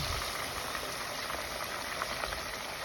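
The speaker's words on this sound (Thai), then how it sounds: "นี่คือสิทอดไก่เนาะ กำลังเอาลง ทอด" Dense, even sizzle of chicken frying in hot oil outdoors, a continuous bubbling hiss with no breaks and no voices.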